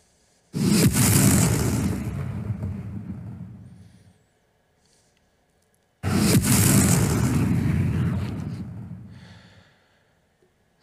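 Two identical layered game-audio explosion effects play in succession, each a sudden loud boom with a punchy attack and a long rumbling release fading over several seconds, separated by silence.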